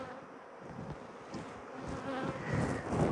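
Honey bees buzzing around an open hive while a beekeeper shakes them off frames, a steady moderate swarm hum that swells slightly toward the end.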